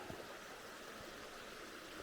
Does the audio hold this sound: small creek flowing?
yes